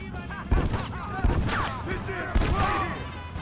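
Shotgun blasts in Red Dead Redemption, three heavy booms spaced about a second apart amid other game gunfire and clatter, with someone talking over the action.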